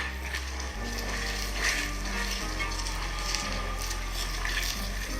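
Shrimp deep frying in hot oil give a steady, dense sizzle with a low, constant hum beneath. It runs unbroken for about five seconds with no talk.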